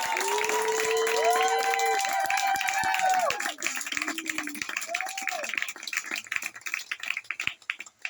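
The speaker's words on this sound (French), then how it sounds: "un tonnerre d'applaudissements pour la maîtresse des lieux qui vient d'arriver, Madame Zoé Griang" An audience at an improv theatre night in a pizza restaurant applauds a host's arrival, steady clapping running beneath loud whooping and cheering voices that fade after a few seconds.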